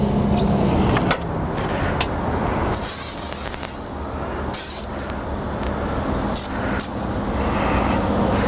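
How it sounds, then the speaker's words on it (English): Acid-resistant pump-up sprayer misting oxalic acid for rust removal, a steady close hiss with brief bursts and pauses as the trigger is worked, no talk. "It's an acid-resistant pump-up sprayer, and we're going to spray it on,"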